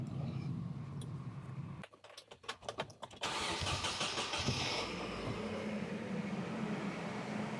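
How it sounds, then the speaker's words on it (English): A Nissan S14 240SX engine cranks with a few rapid stuttering bursts after a spark plug and air filter change, then catches and settles into a steady, loud idle close by. "Let's give this thing a quick crank and make sure it still starts"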